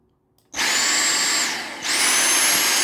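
A Dyson V6 cordless vacuum cleaner starts up abruptly, whining loud and close on max power with a high motor pitch, dips briefly, then surges back to full roar.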